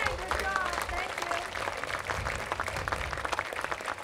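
Audience clapping for a senior community choir at a senior center celebration, a moderate patter of applause from a small crowd that continues evenly for a few seconds.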